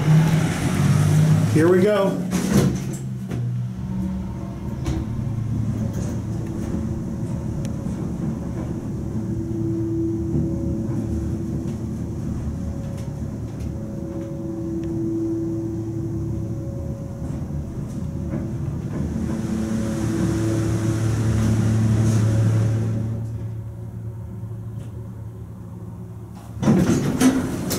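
An elevator rises to the fifth floor with a steady low mechanical hum and rumble that holds throughout, lifting slightly near the end before a thud. A voice speaks briefly at the start.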